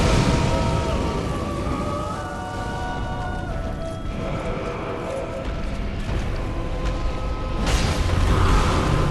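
The Old Demon King, a Dark Souls 3 boss, explodes in a dense, rumbling burst of fiery noise. The roar sustains throughout, and a sharper whoosh comes late, with no talking.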